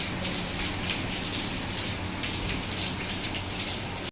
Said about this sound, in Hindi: देखिए इतनी तेज बारिश हो गई।